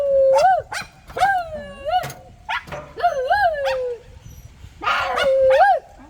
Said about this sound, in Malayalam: രണ്ട് നായ്ക്കള്